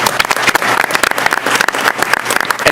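Evening awards ceremony at a Board of Education meeting: an audience claps loudly and steadily for award winners, dense close applause filling the whole moment.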